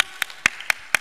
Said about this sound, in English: Aya, round of applause ambayo imeshiba.